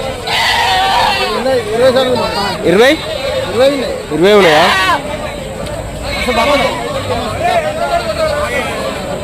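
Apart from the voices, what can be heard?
goats bleating at animal market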